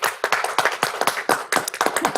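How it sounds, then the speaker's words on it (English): Clapping from a small audience at a township board of commissioners meeting, a brief round of close, crisp, uneven hand claps from several people, with no voices. "Please hold your applause."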